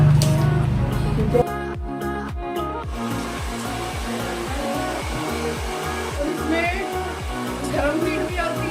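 A Berina BC-8809 professional hair dryer blows with a steady, loud whooshing roar and motor hum, close up, while a person speaks over it.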